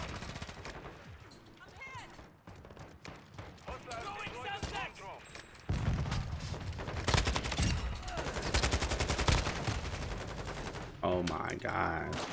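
Kastov 762 rifle firing in a video game shootout, with rapid bursts and a sustained volley over background game sounds, under excited talking from a player.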